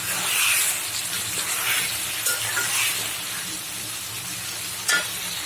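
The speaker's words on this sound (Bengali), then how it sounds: "এটা দেখুন খুব সুন্দর কষানো হচ্ছে।" Chicken curry with bottle gourd being sautéed in a pan: a steady, close sizzling hiss with repeated scraping stirs and a sharper clatter near the end, with no talking.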